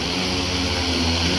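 Agricultural spraying drone lifting off over a castor field, a loud, close, steady whirring buzz of rotors filling the short moment.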